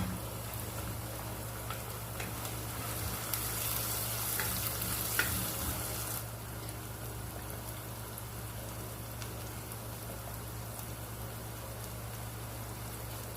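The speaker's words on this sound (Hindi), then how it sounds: "लहसुन को 2 मिनट तक हम भून लेंगे" Garlic ginger paste and leftover stuffed-tinda masala fry in a pan with a steady, dense sizzle and soft stirring scrapes, close and continuous with no voices.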